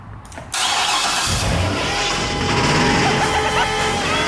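A 2011 Corvette Grand Sport engine cranks briefly, then catches and roars into a loud, rough idle that continues steadily to the end.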